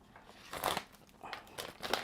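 ROG Phone 5 Ultimate box packaging is being opened, with soft crinkling and tearing bursts of paper and plastic in a few quiet, irregular rustles.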